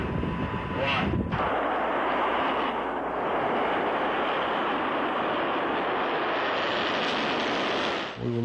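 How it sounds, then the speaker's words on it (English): An anti-missile missile lifts off from Vandenberg, a continuous loud rushing roar that swells within the first seconds and holds steady, slightly distant, with wind buffeting the microphone throughout. "All cameras rolled as they heard liftoff from Vandenberg over their radio."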